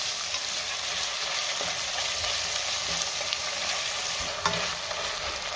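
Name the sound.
tomato sautéing in a pan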